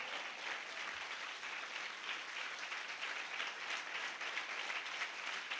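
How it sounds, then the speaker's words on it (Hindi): A church congregation claps steadily at a worship service, an even, continuous wash of many hands at moderate level without pause. "ये तालियां प्रभु के वचन के लिए हैं।"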